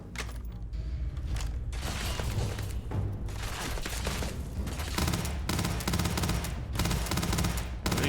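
A Grendel gun fires in the Starfield video game, with rapid close bursts of shots repeating in clusters along with mechanical clacks, loud and dense with only brief pauses.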